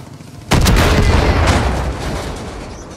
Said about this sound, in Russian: Кто стреляет, блин?